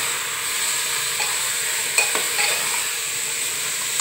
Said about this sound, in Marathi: छान मिक्स करून घ्यायचं